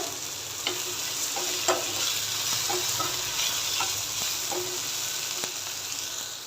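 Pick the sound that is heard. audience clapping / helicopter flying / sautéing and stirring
sautéing and stirring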